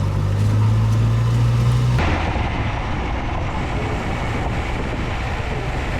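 A Datsun 520 pickup truck with failing brakes drives along a road, its engine a steady low drone mixed with heavy wind buffeting, loud and close throughout.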